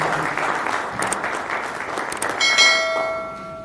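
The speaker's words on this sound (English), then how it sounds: "Can we give Commissioner a round of applause?" Audience applause at a Correctional Services and FIFA Foundation twinning event fills the moment with dense clapping, then ringing bell-like tones rise near the end as the clapping fades.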